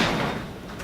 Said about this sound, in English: Tell you what, open that door.